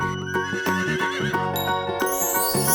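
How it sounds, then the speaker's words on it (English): A horse whinnies in a long, shaky, high neigh over steady clip-clop hoofbeats, loud and close, with a toy-like farm-animal character and no talking. "The whinny of this horse."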